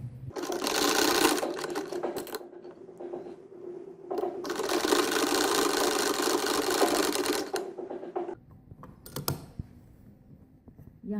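Sewing machine stitching piping along a blouse neckline: two long, steady runs of fast mechanical whirring with a brief pause between, close and fairly loud, followed by a few quiet clicks and handling sounds.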